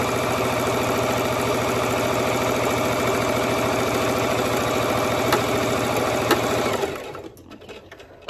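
A sewing machine stitches ribbon trim onto a tutu in a steady, loud, rapid mechanical whir that runs continuously for about seven seconds, then stops and leaves a quiet room.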